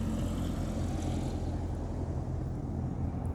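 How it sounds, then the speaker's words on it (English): A passing airplane rumbles as a steady, broad roar that stays constant throughout without clear rise or fall, heard alone. "let me let this plane pass."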